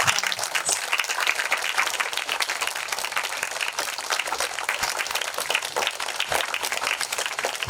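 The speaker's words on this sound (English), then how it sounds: "Let's give now a big applause to the" Sustained audience applause at a Marian convention with rosary and candlelight procession at a convent, a dense, steady wash of many hands clapping throughout with no voices over it.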